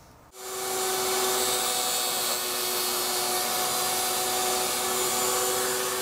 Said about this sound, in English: Let's get this cover routed real quick.